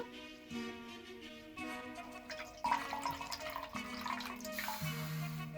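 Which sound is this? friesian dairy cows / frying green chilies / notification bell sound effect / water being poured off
water being poured off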